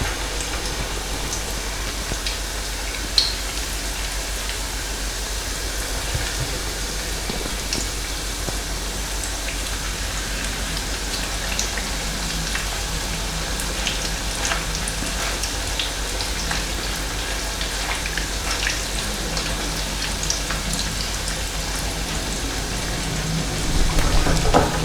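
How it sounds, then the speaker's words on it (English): Pork schnitzel gently frying in a pan, a steady close sizzle with a fine, rain-like crackle that holds evenly throughout, with a brief soft knock early on. "We're going to gently fry these now for about 7 or 8 minutes on either side."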